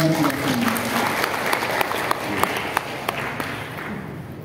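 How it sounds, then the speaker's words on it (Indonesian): Applause from a room of people at a Ramadan parenting gathering, a steady patter of many hands clapping at moderate volume, with a voice speaking briefly at the start. "Ini ada yang hadir bapak-bapaknya, kita kasih tepuk tangan lah."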